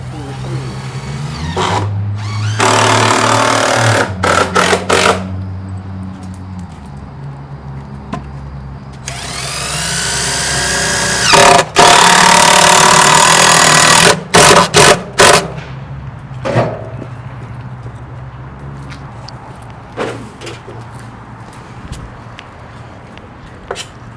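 A power drill drives 4-inch screws while bracing a structure to a house during an outdoor library installation, with several loud whirring bursts mixed with clunks, knocks and background activity.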